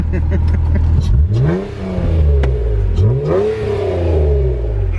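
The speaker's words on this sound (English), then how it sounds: "What exhaust is this? It's a Pride exhaust." Acura NSX with a Pride exhaust revving hard, several loud rising and falling throttle blips sweeping up and back down close by, the engine idling between pulls.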